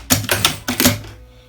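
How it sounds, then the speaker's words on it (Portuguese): Sewing machine backstitching along a pen-marked line on a fabric piece, giving rapid mechanical stitching bursts in a stop-start rhythm of about four short runs, close and fairly loud, fading to near quiet at the end. "Retrocesso novamente."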